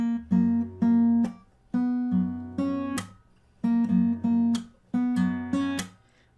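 An acoustic guitar plays the last part of a song, with clean strummed chords in a bouncy, stop-start rhythm and sharp muted chops between them, close and clear with no talking.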